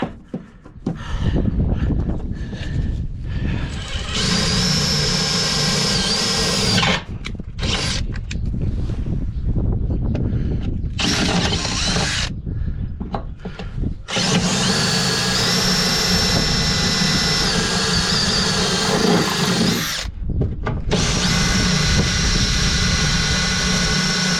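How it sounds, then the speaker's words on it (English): A power drill whines loudly in long bursts, pitch shifting as it bites through material while installing RV waste dump valve cable kits, with short pauses between runs. "I just need to drill all the way through."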